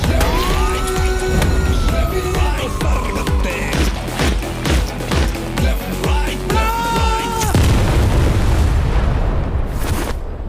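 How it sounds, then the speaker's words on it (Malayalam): A wailing siren sweeps up and down through a loud, dense cinematic mix of booms and impacts, cutting out abruptly near the end, set in a comedic fan-made action trailer. "ആ സൈറൺ ഇടാ."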